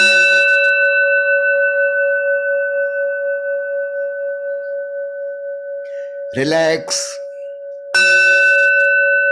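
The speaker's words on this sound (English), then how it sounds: "listen to the sound of bell I am making" A meditation bell rings with a long, pure, slowly fading tone. A calm voice speaks briefly, then the bell is struck again near the end.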